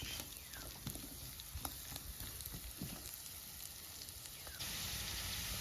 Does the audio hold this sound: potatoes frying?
yes